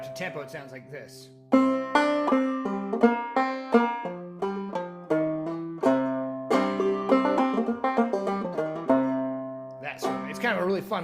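A fretted string instrument plays a fast chromatic line at full tempo, a clear run of plucked notes with ringing sustain, loud and alone, starting with a few softer notes before the run.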